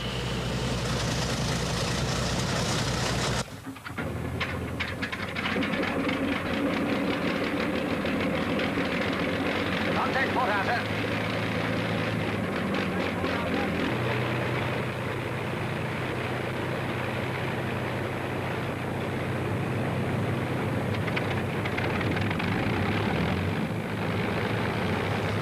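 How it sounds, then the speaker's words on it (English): The 36-litre V12 engine of a Shackleton aircraft roars into life after a brief quieter stretch, then holds a loud, dense, continuous drone with a rough, throbbing texture throughout. "A 36-litre V12 engine, of course, makes an incredible amount of noise."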